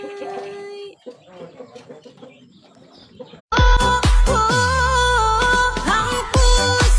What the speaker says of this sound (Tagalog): Ang isang kabuok nga manok.